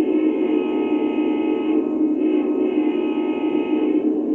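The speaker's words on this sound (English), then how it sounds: "So here's the horn. Yep, this is gonna be a good horn." A Lionel Legacy model of an Amtrak F40PH locomotive sounds a steady electronic horn tone, a continuous chord held for several seconds without a break.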